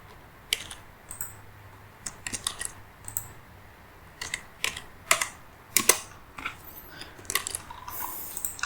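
Someone types on a computer keyboard while entering a wall thickness in SketchUp, producing irregular close clicks and short bursts of keystrokes over quiet room tone.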